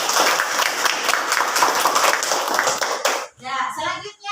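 A classroom of students in an Islamic religious education class claps together, a dense burst of applause for about three seconds that cuts off sharply, followed by a brief spoken voice.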